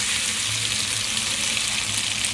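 A blended paste of anchovy, shallot, chili and garlic frying in hot oil, giving a loud, steady, hissing sizzle with faint stirring underneath, and no speech.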